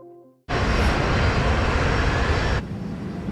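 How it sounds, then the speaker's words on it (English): A US Airways Airbus airliner climbs out of New York's LaGuardia Airport with a sudden loud, dense engine roar that holds steady, then eases slightly to a lower, continuous rumble. "US Airways Flight 1549 has just left New York's LaGuardia Airport."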